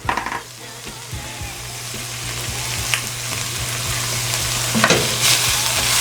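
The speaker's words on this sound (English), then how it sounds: "Let's try and cook some of that tomato paste out of there" Tomato paste cooks in a pan for Southern red rice, with a low bubbling sizzle, a steady hum, and occasional spoon scrapes and knocks against the pan.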